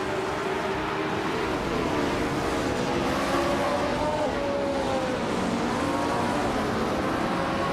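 A 1965 Ferrari 1512 racing car in a racing video game, its engine holding a steady high drone that rises and bends in pitch as it accelerates, loud and continuous from start to end.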